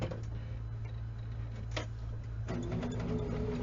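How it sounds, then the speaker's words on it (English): A sewing machine runs a straight stitch on quilt fabric, giving a faint, steady mechanical whir with a soft ticking rhythm throughout. "then I'm going to sew this on"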